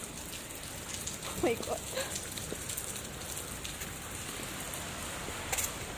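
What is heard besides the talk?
rain falling on a Thursday morning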